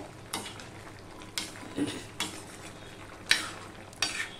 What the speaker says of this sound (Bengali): তরকারিটা একটু নেড়ে দেবো।